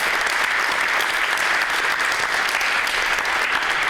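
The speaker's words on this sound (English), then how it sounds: "Please give a very, very, very warm applause to Jana Klementovicius from Unicorn," Sustained, dense audience applause at a youth day event of a gas forum, steady and loud throughout with no talk over it.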